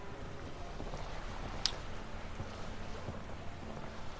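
A sailboat moves across open water in The Witcher 3, with a steady, quiet wash of wind and waves running throughout and one brief sharp tick in the middle.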